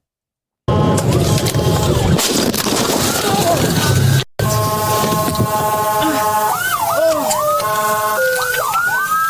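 A loud police siren wails nearby, rising and falling in sweeping tones after a sudden start, with a short break before it continues.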